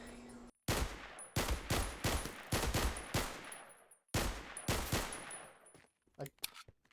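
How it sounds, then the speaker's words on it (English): Rapid Glock gunfire in modded Minecraft at night: loud bursts of close, sharp shots in quick succession, a short pause, then another volley trailing into scattered single cracks. "at nighttime I went out with the Glock in hopes to shoot things"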